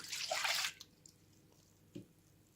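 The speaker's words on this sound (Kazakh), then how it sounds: "Ыдысқа сүтті құямыз." Milk pours in a short gush into a bowl, then falls quiet except for a single small drip.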